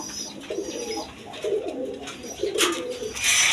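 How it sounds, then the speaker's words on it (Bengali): A pair of Giribaz pigeons of the Coca type coo repeatedly at close range, low throaty calls rising and falling in short bursts over a faint background of chirps. "দেখেন কোকার ডাকটা আছে খুব"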